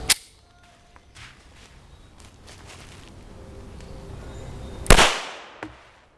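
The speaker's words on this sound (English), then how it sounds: "you should definitely be able to tell this is a lot quieter than standard ammunition" A 9mm pistol fires 165-grain HUSH subsonic FMJ ammunition outdoors, giving one loud sharp crack late in the clip, with a fainter report near the start and light handling noises between.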